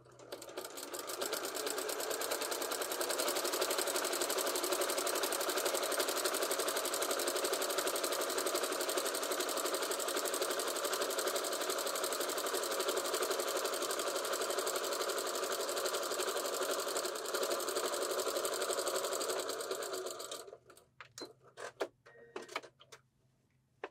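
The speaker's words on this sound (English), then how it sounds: "Once you have made that stitch across, remove your pins" A sewing machine runs a continuous, steady whir while stitching quilted fabric for a Christmas stocking, then stops abruptly, leaving a few soft clicks and handling sounds.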